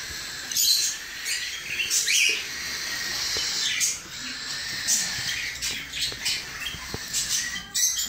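Baby birds chirping in nests as a chick hatches, a busy chorus of high, thin cheeps and squeaks in irregular bursts, close and fairly loud.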